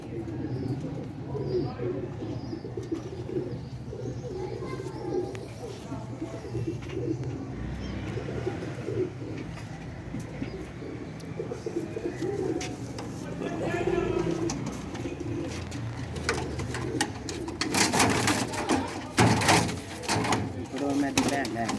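Sialkot's Ali wale pigeons coo in repeated low throaty bursts throughout, close and fairly loud, while someone talks over them and a few knocks and rustles sound near the end.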